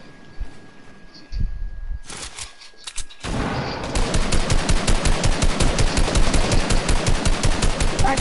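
Automatic gunfire in a video game starts with a few scattered loud shots, then settles into a fast, steady, close machine-gun rattle that runs without a break.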